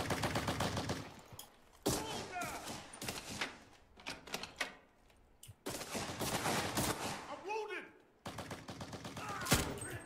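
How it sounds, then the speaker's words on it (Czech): Loud gunfire in the video game Cuisine Royale comes in several rattling bursts of rapid shots separated by short pauses, with speech mixed in between. "Jde po nás, střílí."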